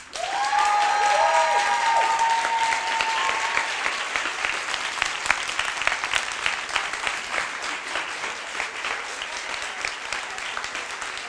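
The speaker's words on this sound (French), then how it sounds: "Je vais vous demander maintenant l'applaudimètre pour Pauline de Brutal Broderie." Sustained audience applause at a pitch night, loud and dense from the first second, then slowly thinning out over about ten seconds, with a brief whistle or cheer early on.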